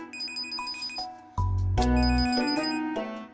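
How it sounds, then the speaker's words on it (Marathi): A mobile phone ringtone plays loud and close, a steady repeating electronic tone pattern continuing throughout with no talking over it, in an indoor domestic scene. "भाऊ फोन वाजतोय तुमचा."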